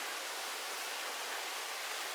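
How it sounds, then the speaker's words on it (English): A small waterfall on the Salmon River rushes steadily nearby, a soft continuous splashing hiss with no voices. "That's a little waterfall here."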